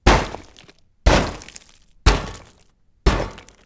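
Four separate heavy tank collision impacts in a Unity tanks game, each a sharp crunching hit on concrete and rock with a gritty, debris-like tail, evenly spaced about one second apart, loud and close with no talk.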